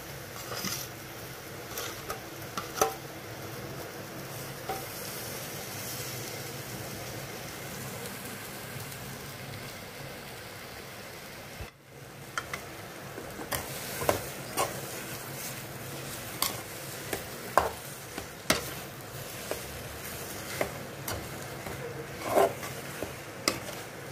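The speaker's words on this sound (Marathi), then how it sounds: "आलू चांगले मॅश करून घ्या।" Boiled potatoes are mashed in a pan with salt: a continuous soft sizzling, scraping texture runs throughout, punctuated by frequent sharp taps and knocks of the utensil against the pan, heard alone without speech.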